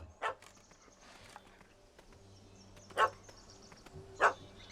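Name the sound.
dog barking in video game The Witcher 3: Hearts of Stone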